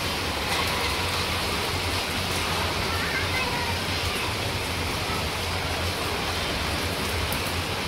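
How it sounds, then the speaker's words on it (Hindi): Heavy rain falling hard and steadily at a building's third floor, a dense, even hiss throughout with a low hum underneath. "ओए भाई बहुत तेज हो गई है बारिश।"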